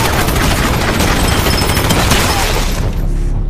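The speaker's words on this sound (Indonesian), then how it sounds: "ada sniper musuh yang melepaskan tembakan" An enemy sniper's gunfire sounds in a war film scene, a loud, dense burst of shots and booming blasts that fills the moment before cutting off abruptly.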